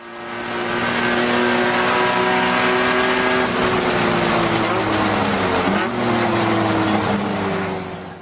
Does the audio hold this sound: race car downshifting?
yes